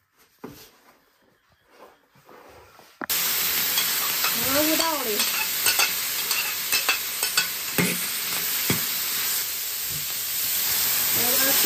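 Mushroom and meat sauce hits a hot pan after a few quiet seconds, then fries with a loud, steady sizzle and hiss, broken by repeated scrapes and clacks of stirring nearby.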